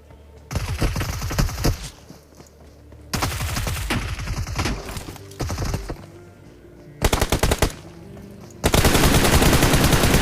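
Automatic gunfire in a BGMI mobile battle royale fight, loud bursts of rapid shots in several separate volleys with brief pauses between them, ending in a dense continuous spray.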